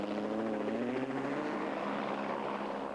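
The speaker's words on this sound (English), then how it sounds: "With a police helicopter hovering overhead, the Castor Toyota Hilux factory crew of Ant" A police helicopter hovers overhead at a Toyota 1000 rally event, its rotor and engine making a steady, loud, broadband whirring drone that continues without a break.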